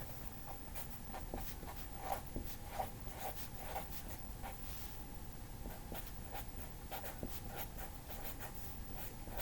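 Marker or pen writing on a board or tablet during a maths lesson on correlation, a quiet stream of close scratchy strokes and taps with no talk.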